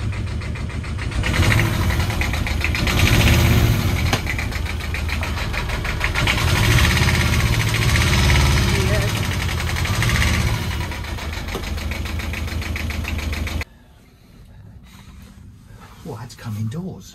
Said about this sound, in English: Sweet little engine. Let's see if it goes in gear.